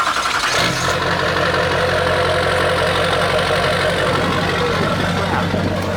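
A truck engine idles steadily and loud from close by, a low rumbling drone with a brief rise at the start, while a person talks over it.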